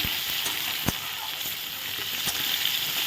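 Potatoes frying in a pan of hot oil, a continuous close sizzle with a few sharp pops and the occasional stir.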